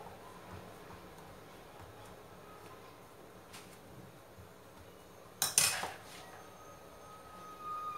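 A spoon scrapes and presses farofa in a dish, making soft scraping with one sharper clink of metal on the dish, quiet and close over a low background hum.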